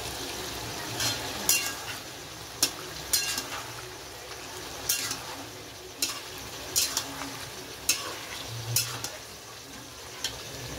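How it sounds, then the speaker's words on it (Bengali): Meat being stir-fried in a pan with spices and salt, a steady low sizzle broken by irregular scrapes and clatters of a spoon stirring against the pan, close and moderately loud, with no talking. "আর ছোট মাম্মামের এই যে কষানো হচ্ছে মাংসটা।"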